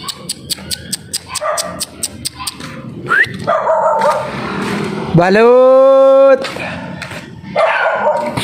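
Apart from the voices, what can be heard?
dog barking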